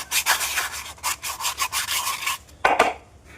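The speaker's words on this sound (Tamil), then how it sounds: "ரெண்டாவது உள்பகுதியை சுரண்டி எடுத்துடணும்" Scraping the inside of a coconut shell, a rapid series of dry rasping strokes close by, fairly loud and rhythmic, ending with a couple of heavier scrapes and no voices.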